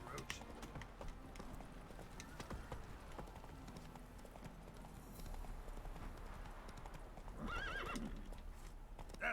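Roach the horse in The Witcher 3 gallops with steady clip-clop hoofbeats on a road, then gives a loud neigh and whinny near the end, with someone talking over the riding.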